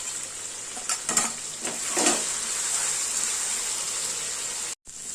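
Meat sautéing with ground spice paste in a pan, a steady hissing sizzle broken by a few stirring scrapes early on and a brief dropout near the end.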